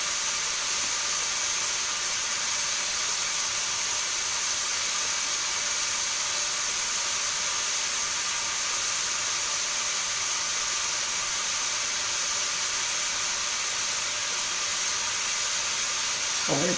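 A Presto pressure canner gives off a continuous, loud, even steam hiss, steady throughout with no breaks, close by.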